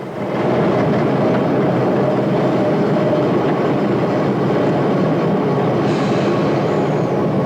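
Loud, continuous rumble and roar of a London Underground train running on rails into a station, with a faint rising whine near the end and no voices.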